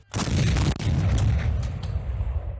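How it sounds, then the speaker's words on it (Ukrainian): One loud blast from a Rapira anti-tank gun fires close by during a military exercise, with a sharp crack that rolls into a long, rumbling echo and fades slowly. "Після підривів у бій вступили артилерійські розрахунки протитанкових гармат рапіра."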